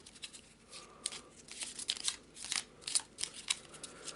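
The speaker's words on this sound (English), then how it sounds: "So we'll shuffle them all back in" A deck of cards being shuffled at a tabletop board game session, giving a run of crisp riffling and snapping bursts, close and fairly quiet, with no talk.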